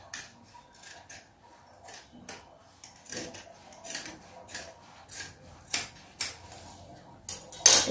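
Scissors snip by hand through blouse fabric in a series of short, crisp cuts spaced irregularly, close and fairly quiet, with small rustles between them and no talking.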